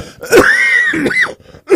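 Someone close by, recovering from a weeks-long cough, clears their throat with a raspy, wheezy rumble, followed by a short cough-like catch.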